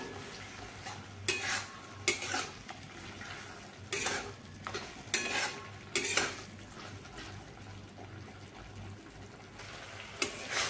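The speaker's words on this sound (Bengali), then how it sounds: "এবার এর সঙ্গে ভালোভাবে এই হলুদ গুঁড়োগুলোকে মিশিয়ে আমি এখন এটাকে বেশ ভালোভাবে একটু ভেজে নেব" Ridge gourd fries with turmeric powder in a pan: a low sizzle broken by repeated loud spatula scrapes and stirring bursts at uneven intervals, close up.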